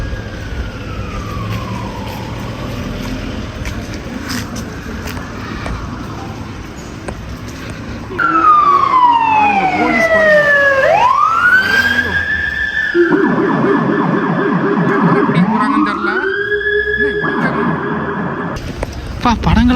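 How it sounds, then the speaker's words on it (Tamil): A police car siren wails loud and close as the vehicle speeds past on a street in the USA, its rising and falling tones sweeping by over steady traffic background. "போலீஸ் சேஸ் பண்ணி பிடிக்க போகிறாங்க போல் யாரையோ அவ்வளோ வேகமாக போய்கிட்டு இருக்காங்க சைரனை போட்டு சும்மா பறக்கிறாங்க"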